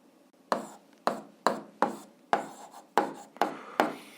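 An algebra equation written by hand, likely chalk or pen on a board, with about eight distinct scratchy strokes in an uneven rhythm, close and fairly clear with no talk.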